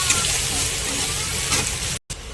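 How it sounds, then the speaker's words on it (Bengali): Onions fry in a pan with a loud, steady sizzle and crackle, close up and without talk, cut briefly near the end. "যে পেঁয়াজটা ভাজা হয়ে গেছে"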